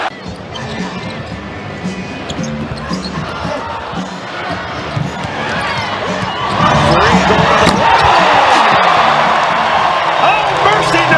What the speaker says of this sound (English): a sellout crowd in the ACC would be chanting Bruno?